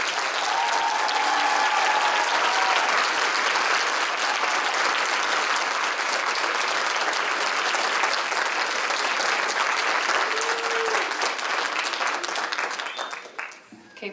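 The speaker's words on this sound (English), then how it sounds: "let's give them a good round of applause" Sustained applause from a graduation ceremony audience in Payson in 2017, filling a room with dense clapping that holds steady for the whole stretch before tapering off at the end. A few voices and whistles rise through it.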